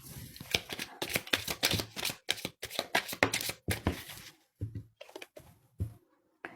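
Close, crisp bursts of tarot cards being shuffled for a reading, with quick riffling patters that stop and start, then sparser taps toward the end.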